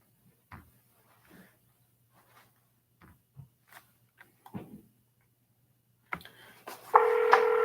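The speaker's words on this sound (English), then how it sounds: "I'm going to dial in one more time." A phone handset being handled before a number is dialed, with soft scattered clicks and taps, then a steady electronic tone during the last second.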